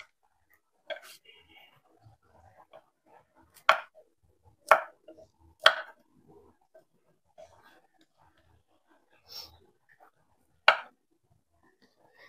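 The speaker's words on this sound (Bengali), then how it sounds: "আমি একটু বড় বড় করেই সবজিগুলোকে কাটবো" A knife cuts vegetables into large pieces for chicken curry, making about six sharp, isolated chops at uneven intervals. Each one lands close and crisp against near silence, with faint handling noises in between.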